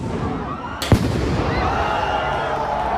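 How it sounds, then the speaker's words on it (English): A firework bursts with a sharp loud bang during a nighttime clash between protest groups at UCLA, set against a constant roar of crowd noise and shouting. "Fireworks also flew."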